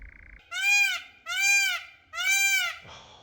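A peacock gives three loud, nasal calls in a row, each rising then falling, evenly spaced and close by, with quiet gaps between them, on Brownsea Island, Dorset.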